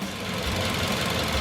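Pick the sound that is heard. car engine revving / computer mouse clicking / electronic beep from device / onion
car engine revving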